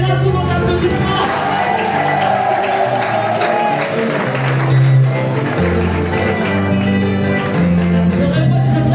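An audience at a union gathering in Kwango applauds and cheers steadily, with music and a voice carrying over the clapping throughout.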